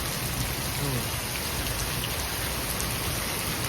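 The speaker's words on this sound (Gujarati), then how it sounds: "શાંત વરસાદ વરહે અત્યારે" Steady rain falls across a village in Botad, a dense even hiss of drops on surfaces that continues without a break, close and uniform throughout.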